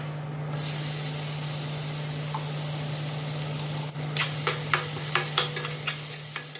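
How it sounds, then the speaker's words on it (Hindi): Asafoetida and fenugreek seeds sizzle and crackle in hot oil for kadhi with a steady hiss, then a burst of sharp pops and spatters near the end. "गरम तेल में हींग और मेथी का तड़का लगाया"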